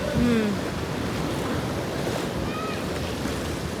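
Sea waves wash up onto a Konkan beach with a steady, broad roar, mixed with wind buffeting the microphone and a brief faint voice near the start.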